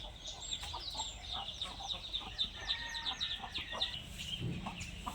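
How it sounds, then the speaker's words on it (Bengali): Hens clucking in a home yard alongside local ducks, a string of quick, chirpy clucks and calls repeating steadily at a modest distance over soft outdoor background noise. "আর এই মুরগিটা, এটা কয়লার মুরগি"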